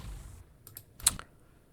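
A few quiet clicks of computer keyboard keys being pressed come in a short irregular cluster, close by, with one slightly louder tap among them and no voices.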